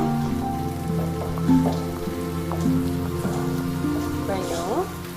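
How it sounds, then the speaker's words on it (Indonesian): Rain falls steadily in a film scene, a continuous patter under a bed of tonal music with brief voice-like sounds, holding a constant level throughout. "Lihat hujan. Hujan."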